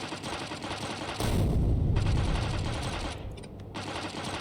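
Rapid automatic gunfire in the Factorio video game as chests are shot apart, a dense, continuous rattle that swells louder midway, with no voices.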